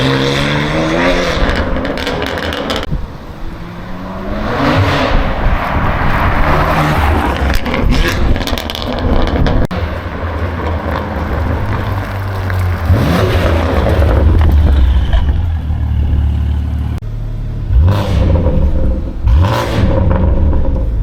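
A BMW G87 M2 with an Autowerke active exhaust rumbles and revs throughout. Deep, loud exhaust drones rise and fall in repeated swells, heard from inside the car as it drives on a stormy day.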